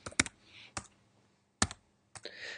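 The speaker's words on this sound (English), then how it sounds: "So I can type some numbers in," A few isolated computer keyboard keystrokes enter numbers at a Linux terminal, sharp clicks separated by short pauses in an otherwise quiet room.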